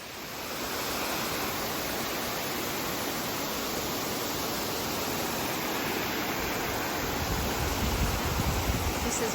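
Beside a steep, rocky, slippery hiking trail down Mount Moosilauke, a waterfall gives off a steady, loud, broadband rush of falling water that holds unchanged throughout.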